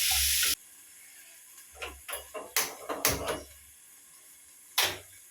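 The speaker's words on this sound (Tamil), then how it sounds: "இதில் லைட்டாக மஞ்சள் பொடி உப்பையும் போட்டு இது கொஞ்சம் நேரம் வதங்கட்டும்" Vegetables with turmeric powder and salt sizzle briefly in a pan, followed by a series of sharp clinks and scrapes from a spoon stirring, ending with one more knock.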